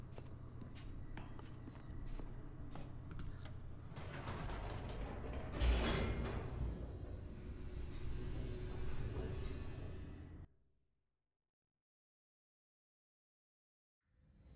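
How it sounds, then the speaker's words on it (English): An elevator descends in The Stanley Parable, a steady mechanical rumble with creaks and clanks lasting about ten seconds, one louder knock midway, then an abrupt cutoff into silence before a brief sound returns at the end. "The elevator raced downward, plummeting towards an unknown fate."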